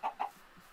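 Two quick, close clucks from a Minecraft chicken, sounding alone and clean in a short burst.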